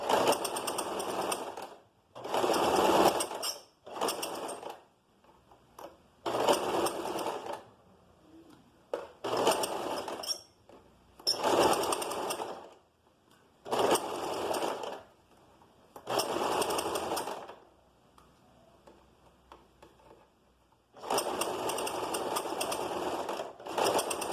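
A sewing machine stitches a curved seam in fabric with a 1 cm seam allowance, whirring loudly in about nine bursts of one to three seconds each, separated by short quiet pauses, with no voices.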